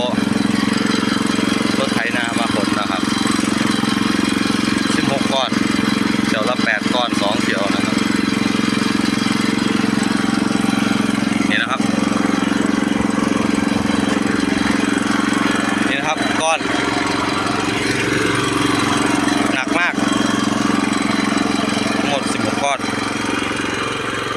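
A steady tractor engine drones loudly throughout with a constant low hum, occasional clanks and rattles over it, and a voice talks intermittently.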